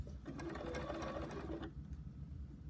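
Sewing machine stitching a quilt block for a butterfly pattern, a steady close mechanical whir that runs for about a second and a half, then stops, leaving quiet room noise.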